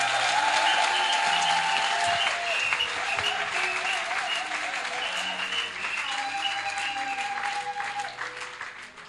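Church congregation clapping loudly and continuously, a dense wash of applause with a few voices rising over it, gradually thinning toward the end.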